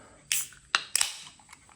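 A Monster energy drink can being opened, giving a sharp metallic snap of the tab followed by a quick hiss and crackle of fizz, close and quiet with nothing else around.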